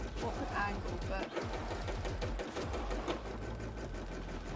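A sewing machine stitches cosplay fabric in a steady, close, rhythmic run with a brief pause partway, while a voice talks over it.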